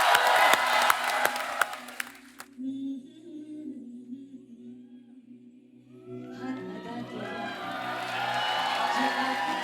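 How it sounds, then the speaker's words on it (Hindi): A studio audience at a comedy show breaks into loud clapping and cheering that stops abruptly after a couple of seconds, then sustained tones and rising crowd noise return. "जोरदार तालियां हो जाए।"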